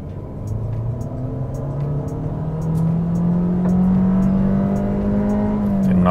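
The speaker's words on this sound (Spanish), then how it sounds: "Lo primero es mostrarles la aceleración, para eso lo pongo en modo Sport." Honda CR-V accelerating hard in Sport mode, a continuous engine drone rising steadily in pitch from inside the cabin, with a turbo whir and no gear breaks.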